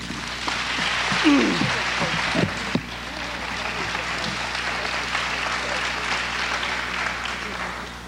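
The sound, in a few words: audience applauding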